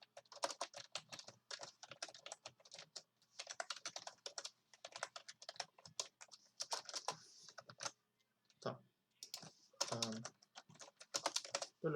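Rapid, close typing on a computer keyboard while code is entered, dense bursts of light key clicks in quick irregular runs with brief pauses and a couple of heavier taps near the end.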